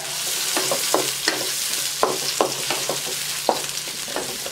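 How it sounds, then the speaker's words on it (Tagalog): Chili peppers sauté in hot oil for a spicy native chicken adobo, a steady close sizzle punctuated by repeated sharp crackles and spatula scrapes, with no talking. "Isabay na natin sa paggisa yung sili."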